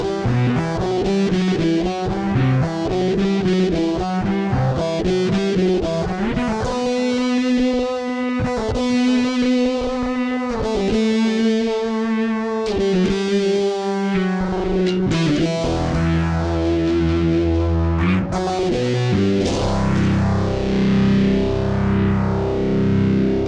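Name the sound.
bass through Fender Tone Master Pro fuzz, distortion and tape delay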